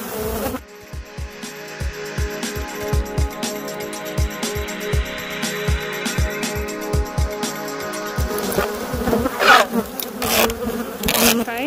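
A swarm of Africanized killer bees buzzes loudly and continuously at an Arizona beekeeping site, a dense drone punctuated by soft bumps and handling thumps.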